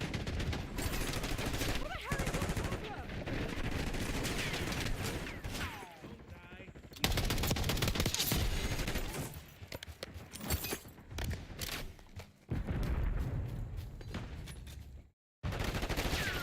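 Rapid bursts of gunfire in Black Ops 6, including shotgun blasts, crackle through busy game audio, with overlapping shots, clattering effects and brief drops, while a player talks over the action.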